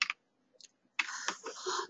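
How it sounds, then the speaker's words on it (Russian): Quick computer mouse double clicks while working in 1C accounting software, small sharp taps in brief pairs with gaps between, close by, followed by a burst of busier clicking and handling noise. "сколько раз двойной щелчок сделаешь, столько раз она и добавит"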